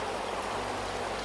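Steady broadband rush of stream water in the mountains around Munsyari, Pithoragarh, continuous and fairly loud, a dense hiss with a low rumble underneath and no voices.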